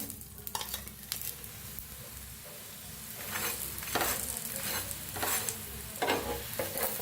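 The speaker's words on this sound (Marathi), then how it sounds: "आता ही दोन्ही साईडने तेल लावायचं बघा तेल लावून छान असं भाजून घेऊया" Dahi dhapate roast on a hot pan with oil brushed on both sides, giving a steady close sizzle with a few louder scraping and stirring bursts and no talking.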